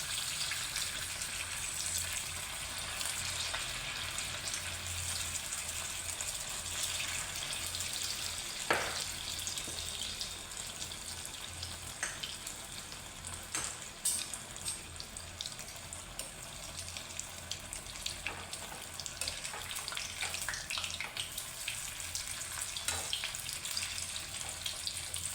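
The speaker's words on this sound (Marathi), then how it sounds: "तेल आपलं तापलेलं आहे आणि आता ही आपण भजी ह्याच्यामध्ये करूया" Gram flour bhaji fritters fry in hot oil with a continuous faint crackling hiss, steady and unbroken, heard close with a few light clinks.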